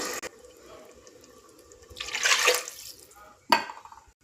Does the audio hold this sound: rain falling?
no